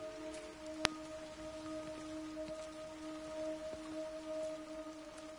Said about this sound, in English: The sound effect for the rain on the roof was totally realistic.